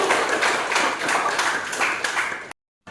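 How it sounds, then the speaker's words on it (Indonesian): A classroom full of students claps together in a short, lively burst of dense applause close by, with rhythmic accents, ending abruptly in silence. "tepuk tangan untuk semua"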